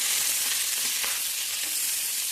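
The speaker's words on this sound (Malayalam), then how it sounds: "വെളിച്ചെണ്ണ ഒഴിച്ചിട്ട് ഈ തക്കാളി ഒന്ന് നമുക്ക് ചുട്ടെടുക്കാം" Continuous loud sizzling of small tomatoes frying in hot coconut oil, a dense crackling hiss that holds steady throughout.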